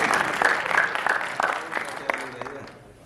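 An audience at a business motivation seminar claps together in a quick, loose burst of many hands, fairly close, then fades out over about three seconds.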